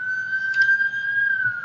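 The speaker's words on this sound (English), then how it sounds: "there's not a day goes by where a siren don't go off in DC" An emergency vehicle siren on a Washington, DC street holds a steady high tone, clear and fairly close, heard alone.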